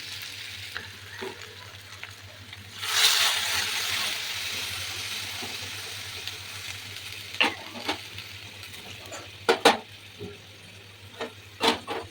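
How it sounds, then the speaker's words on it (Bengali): Hot water is poured into a pan of potato paneer curry, setting off a sudden loud sizzle that slowly fades. Sharp spoon taps and scrapes from stirring follow. "তো এবার আমি দিয়ে দেবো হচ্ছে গরম জল"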